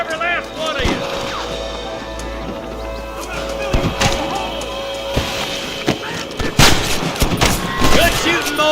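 Gunfire in the Western video game Red Dead Redemption, a series of sharp shots and thuds scattered across a tense stretch, close and loud, alongside shouting voices.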